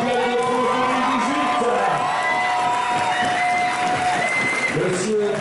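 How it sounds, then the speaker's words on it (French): Crowd applause and cheering at a French national bouldering championship for climber Fanny Gibert, loud and sustained, with whoops and voices mixed in and tonal music running underneath. "une tonnerre d'applaudissements pour Fanny Gibert, championne de France"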